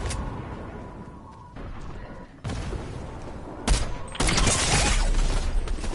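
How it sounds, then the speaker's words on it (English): Gunfire in the video game Fortnite, with bursts of shots and abrupt sound changes over several seconds, growing louder toward the end and mixed with game audio. "You see the gunshot?"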